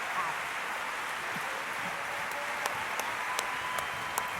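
Dense, steady audience applause at the 2019 Goldman Environmental Prize ceremony, a continuous wash of clapping from a large crowd heard at a distance, with a few sharper individual claps standing out.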